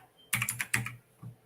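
Typing on a computer keyboard, with a quick, close burst of about five crisp keystrokes followed by one softer tap after a short pause.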